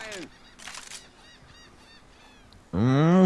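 Honking birds in the video game Left 4 Dead 2: a goose-like honk opens, softer calls drift through the middle, then a loud, harsh honking burst closes, with game ambience underneath.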